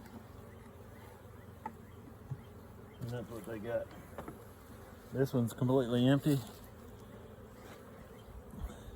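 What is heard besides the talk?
honey bees buzzing at a beehive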